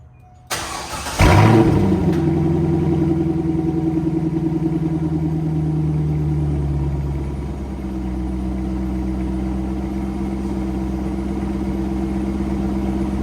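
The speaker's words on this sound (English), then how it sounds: "we're going to shoot to the startup clip right now" A C5 Corvette fitted with a Borla ATAK exhaust and Borla X-pipe cranks briefly and fires up loudly, then settles into a deep, steady rumbling idle that rolls on alone and close by.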